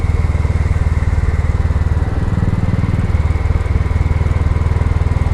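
A Royal Enfield motorcycle engine thrums steadily and loudly on a test ride, its single-cylinder beat forming a dense, continuous low throb with no pauses.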